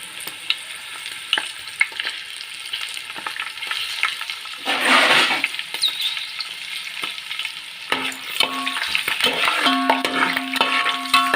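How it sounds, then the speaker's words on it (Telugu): Green peas go into hot oil for a jackfruit biryani and fry with a soft sizzle. A spoon scrapes and stirs against the pan in intermittent clicks, with a louder hiss burst partway through. "ఇదిగోండి పచ్చి బఠానీలు కూడా వేసేస్తున్నాను."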